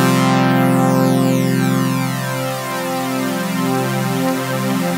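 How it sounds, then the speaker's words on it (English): A Serum synth pad blossoms with an enveloped unison detune, EQ and reverb. One loud, continuous chord spreads and shimmers as the detuned voices drift apart, sustaining evenly with no gaps. "This is a really cool way to make a blossoming sound on your synth."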